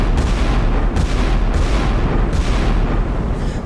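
Battleship gun salvos in the naval game Sea Power, Montana and Iowa battleships firing, heavy booming blasts repeating about every 0.7 seconds over a thick low rumble, loud and close, with no talk.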